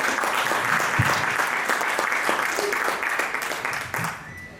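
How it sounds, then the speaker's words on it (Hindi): An audience at a Hindi poetry recital claps to welcome a poet on stage, a dense, even burst of applause that holds steady and then tapers slightly toward the end. "तो एक बार तालियों के महोत्सव से उनका स्वागत करें"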